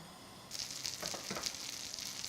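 Butter melting in a hot frying pan, with a soft hissing sizzle that starts suddenly about half a second in and then holds steady and close, with faint crackles and no talking.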